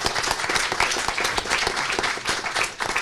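A panel audience claps steadily, the sharp handclaps blending into a continuous moderate round of applause with no break.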